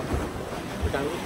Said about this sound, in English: that's the sound of the water splashing against the cave